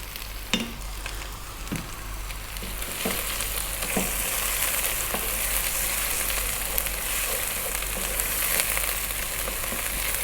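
Garlic sizzling in a cup of hot olive oil for an Ethiopian beef and potato stew, a steady bright frying hiss that swells slightly, with occasional stirring clicks, close and continuous with no talking.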